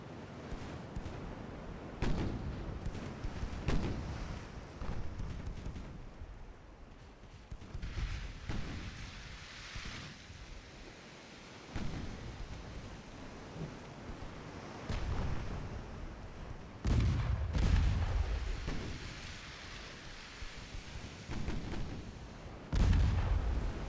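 Six-inch naval guns firing and shells landing in the naval warship game Ultimate Admiral: Dreadnoughts, with repeated booming shots and impacts at irregular intervals over a continuous rumbling battle background.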